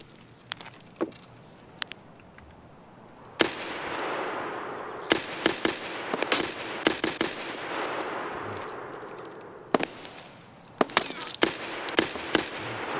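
Gunfire in modded Escape from Tarkov (SPT) on Shoreline, scattered single shots then sharp rapid bursts over a steady hissing background, some shots close and loud, others further off.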